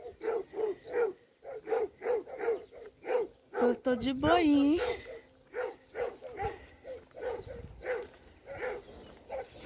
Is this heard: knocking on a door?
no